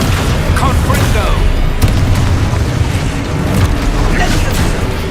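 A Confringo fire spell explodes in the video game Hogwarts Legacy, a deep booming blast amid a dense, loud wash of continuous game sound effects with speech mixed in.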